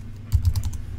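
Short burst of keystrokes on a computer keyboard while a username is entered during a networking lab exercise, a quick cluster of close, crisp clicks over faint room hum.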